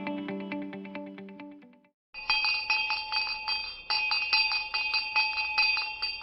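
A bright synthetic bell chime rings, first as a brief descending run of tones, then after a short pause as a series of rapid, sparkling metallic strikes, clean and close with nothing else behind it.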